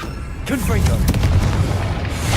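A Confringo blasting spell detonates in Hogwarts Legacy, a loud, deep booming burst with a sustained rumbling tail beneath game effects.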